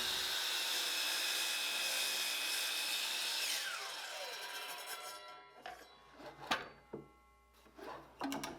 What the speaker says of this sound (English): I'll drill out the 15 holes with a 3/8 inch bit.